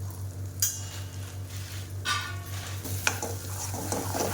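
Ground spices such as black masala, turmeric and cumin powder being dry-roasted and stirred in a pan, with soft scraping strokes and a few sharper clinks of the spoon against the metal over a steady low hum.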